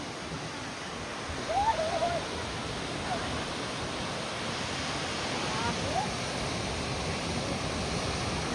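Water rushes down a waterfall at a tour spot in rainy weather, a steady, broad roar that fills the whole stretch without a break, with a couple of faint high cries over it.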